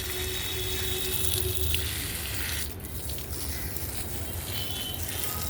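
Water pours steadily onto potted rose plants in a sunny garden, a continuous splashing stream that dips briefly midway then resumes at a constant level.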